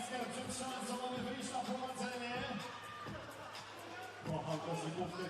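Lively arena crowd at a FIBA 3x3 World Cup basketball game, cheering and whooping in sustained waves, with an announcer's voice and music running over the noise.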